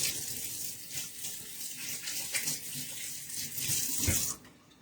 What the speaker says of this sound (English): Now I got to wash my hands off because I got Dijon all over them.